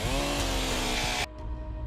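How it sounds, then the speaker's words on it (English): A chainsaw roars loud and close as it cuts through a fallen tree blocking a wrecked mail truck on a mountain highway, then cuts off abruptly partway through, leaving a low idle rumble. "So they break out the chainsaw."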